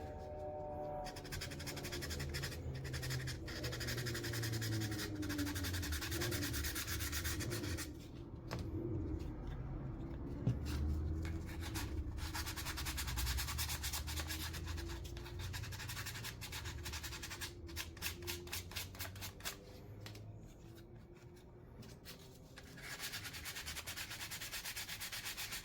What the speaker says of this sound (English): All I'm going to do is take my sandpaper and just on the tops of those tabs